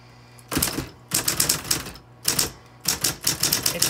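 Rapid bursts of keystrokes clatter on a vintage Coronet Super 12 manual typewriter, close and crisp, coming in four quick runs separated by short pauses.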